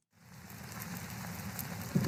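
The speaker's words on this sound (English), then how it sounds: "It's giving me a raining background noise." Soft steady rain ambience from a background-noise app plays at low level, a continuous gentle patter of drops with no voices.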